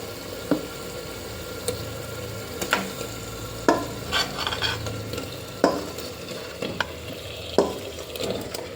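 Potatoes for crispy bhungda batata, a Gujarati snack, fry in hot oil with a steady close sizzle. They are stirred and turned, with a scatter of sharp scraping taps throughout and no voices.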